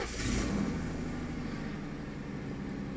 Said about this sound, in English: I'm just about to start the car.